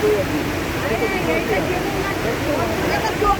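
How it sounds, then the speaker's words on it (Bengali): Hundru Falls in the monsoon roars with a dense, steady wash of water crashing down from a great height, constant and broadband, with voices chattering faintly over it. "দেখেন কত দূর থেকে জল পড়ছে"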